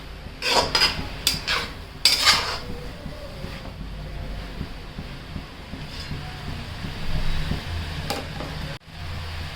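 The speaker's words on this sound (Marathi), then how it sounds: "सगळं टाकून दिले आणि आता छान परतून घ्यायचं" Ingredients sautéing in a pan, with a steady sizzle and a spoon scraping and clinking against the metal in a few distinct strokes, close and fairly loud.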